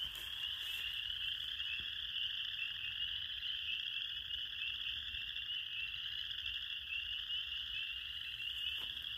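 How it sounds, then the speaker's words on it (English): A dense chorus of frogs calls continuously through an Iowa spring night, a steady high trilling drone that stays even and moderately loud, with no voices present. "In Iowa, we know spring is coming because the frogs start calling."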